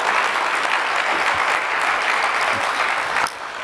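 A business audience gives a sustained, dense round of applause for a presenter named Jerry at a workplace culture and mentorship talk, steady throughout and dropping off sharply near the end.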